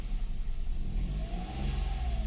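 A Daihatsu Ayla / Toyota Agya car engine runs steadily at idle after being started, following a light tune-up and throttle body cleaning, with a close, continuous mid-pitched hum and no talk.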